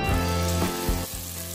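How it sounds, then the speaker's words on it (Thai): Onions stir-frying in hot oil in a pan, a loud, continuous sizzle with a few brief stirring scrapes. "ใส่น้ำมันลงกระทะนะจ๊ะแล้วเอาหัวหอมลงผัดค่ะ"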